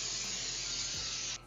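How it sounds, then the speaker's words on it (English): Cooking spray aerosol sprayed onto a baking sheet while preparing salmon fillets: one steady, close, loud hiss that lasts about a second and a half and then cuts off sharply. "take a baking sheet and spray it with cooking spray"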